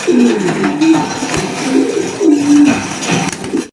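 A pair of German Beauty Homer pigeons cooing close by, several throaty rolling coos repeating in short phrases over a few seconds, loud and near with no voices.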